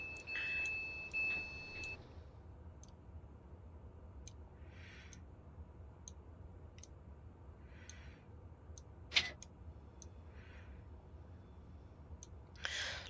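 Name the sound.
train doors opening with beeps, video game Train Simulator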